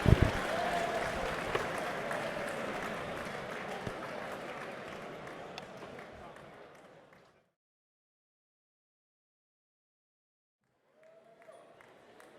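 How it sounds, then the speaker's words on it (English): Crowd applause at a professional boxing match after the final bell, loud sustained clapping and cheering for several seconds that fades into silence, then a brief faint return near the end. "we have a round of applause from both boxers"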